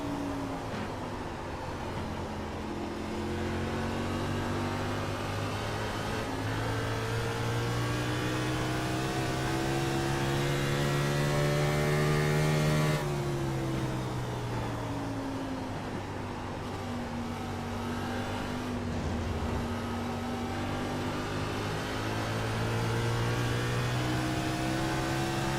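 NASCAR stock cars racing at the Milwaukee Mile, engines droning in a sustained, loud roar with pitch rising and falling as cars pass and accelerate, continuous, with no talk.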